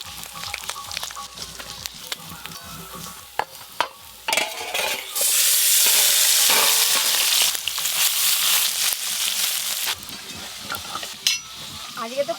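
Small mixed river fish frying in hot oil in a pan, with crackling sizzle that swells into a loud, dense hiss midway, alongside scraping and clattering of a utensil and brief knocks.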